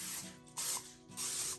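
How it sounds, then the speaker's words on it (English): Oil cooking spray hisses onto cornflake-breaded chicken tenders in three short bursts, each about half a second long, with brief pauses between them. It is close and fairly soft. "Spray both sides of the chicken with a good bit of oil spray."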